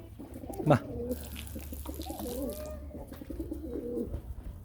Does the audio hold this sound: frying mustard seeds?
no